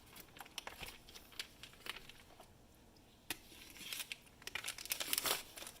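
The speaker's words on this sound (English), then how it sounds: "So you're just going to unwrap your bird." Plastic packaging is peeled and crinkled off a raw, thawed turkey, giving close, irregular crackling and tearing rustles that swell into a busier burst of crinkling near the end.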